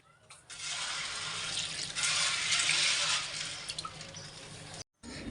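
Water pouring steadily from a tap into a container of chickpeas set to soak, a loud close hiss that rises midway, then drops and cuts off briefly near the end.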